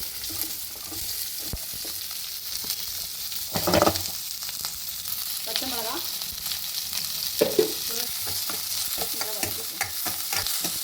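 Steady sizzling of onions frying in a hot pan after mustard seeds, urad dal and cumin, with occasional scraping stirs, a quiet voice speaking briefly over the frying.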